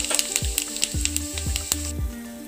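Tempering spices for lauki kofte, bay leaves, dried red chillies and cumin dropped into hot oil, a steady close sizzle and frying hiss with repeated sharp pops and spatters.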